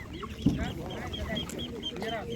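Broiler chickens clucking at an animal market in Ivano-Frankivsk, Ukraine, a busy stretch of overlapping clucks and calls close by amid market bustle and people talking.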